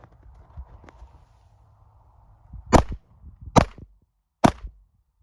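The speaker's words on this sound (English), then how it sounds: "and we start taking some shots." Gunshots are fired at an outdoor shooting range: three sharp, loud cracks spaced roughly a second apart, preceded by quieter handling noises and a faint hum.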